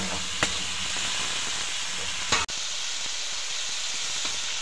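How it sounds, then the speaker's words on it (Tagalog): Bagoong shrimp paste sautéing in a pan while mung bean soup is cooked Ilocano style, giving a loud, steady sizzling hiss that runs throughout, broken by two brief sharp clatters. "So ayan guys, bali may gisa na natin na mabuti yung bagoong"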